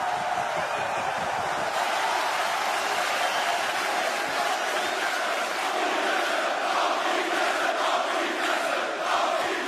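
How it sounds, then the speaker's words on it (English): WWE wrestling arena crowd chanting in unison, a loud, rhythmic roar of many voices filling the hall, with pulsing accents throughout and a commentator's voice faintly under the noise at the start. "And crowd chanting it."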